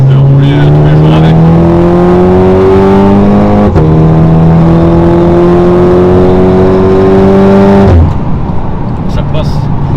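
A Volkswagen Golf driven hard on a circuit, its loud engine note climbing steadily through the gears with a shift around four seconds and a lift near eight, voices talking over it inside the cabin.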